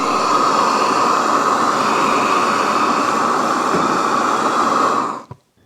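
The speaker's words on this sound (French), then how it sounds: "il suffit d'ouvrir le gaz. Donc on entend que le gaz arrive et il y a juste à donner" Gas roars out of a lit burner at a beehive marking session, a loud steady broadband hiss and rush that holds evenly and then cuts off abruptly at the end.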